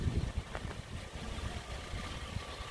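A 2011 Chevrolet Traverse LS with a 3.6 VVT direct-injection engine idles in a low, steady rumble. A few faint knocks and thumps sit on top, and the sound stays at moderate loudness with no talking.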